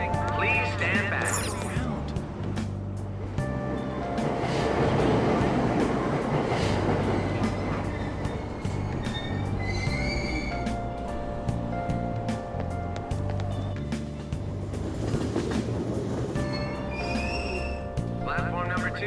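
Tokyo subway train at Aoyama Itchome station, doors closing and the train pulling away, a steady loud rumble with rail clatter rising and fading over the platform while announcements and voices play.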